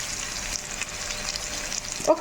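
Pieces of taro root dusted with corn flour fry in a pan with a steady, fairly faint hiss and crackle. No one speaks, and a few soft louder pops come near the end.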